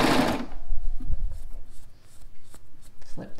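Sewing machine stitching a small fabric cuff, a short burst of machine noise at the start followed by quieter handling and rustling of cloth near the presser foot.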